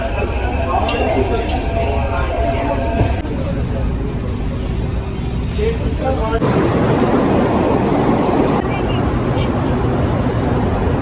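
Rumbling Delhi Metro train ride with rattling and clinking, the ride noise shifting in intensity, as people talk over it.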